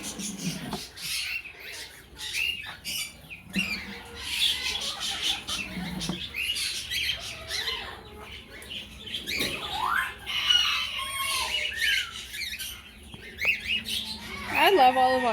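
Indian ringneck parrots, hand-raised babies among the flock, give scattered squawks and chirps throughout, close and fairly busy, with some speech mixed in.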